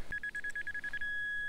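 A metal detector gives a short, steady electronic signal tone, a bright continuous beep with a faint pulsing edge lasting about a second, quiet and alone.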